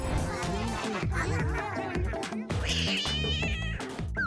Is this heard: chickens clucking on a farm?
no